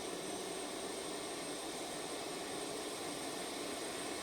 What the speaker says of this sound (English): The APU is firing up, engine back here.